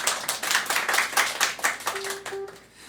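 A small live-show audience claps hands in a quick, fairly even patter that fills the space and then thins out. A brief tonal sound near the end briefly overlaps the clapping.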